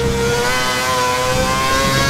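A Formula 1 car engine from the F1 2011 racing game hums at a steady mid pitch while driving slowly into the pit box in qualifying at New Delhi, loud and constant with no speech.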